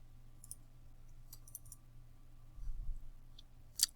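Sparse computer mouse clicks sound close and crisp, a few single and double clicks spread over several seconds, with a soft rustle partway through over a quiet room hum.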